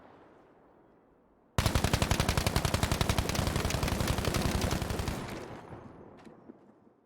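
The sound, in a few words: gunfire in the video game Battlefield V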